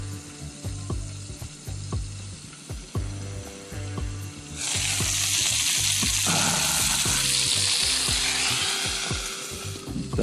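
Pelmeni dumplings fry in a pan out on the ice during winter fishing, a loud, dense sizzle rising suddenly partway through and holding steady, close by, after clicking and rattling sounds.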